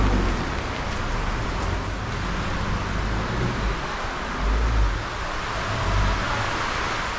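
Heavy rain falls outdoors, making a dense, steady hiss that fills the whole stretch at a constant loud level, with no voices heard.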